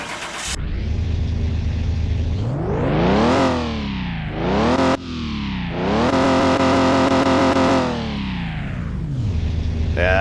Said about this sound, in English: It's got that older muscle car kind of idle to it sound.